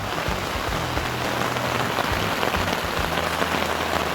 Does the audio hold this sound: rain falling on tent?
yes